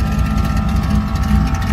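Car engine with mufflers but no tailpipes, idling in a steady, close, rumbling burble with even pulsing throughout and no other sounds.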